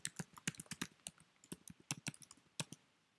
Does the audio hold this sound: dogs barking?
no